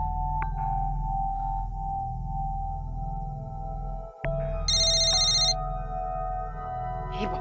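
A phone ringing over speakerphone, a faint steady electronic ring tone repeating with a brief dropout midway, then a loud high-pitched ringtone burst before the ringing resumes.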